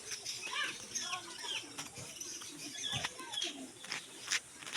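Soft Indian Fantail pigeon coos murmur among other bird calls, including a Mandarin duck, with occasional wing flutters and a faint voice in the background.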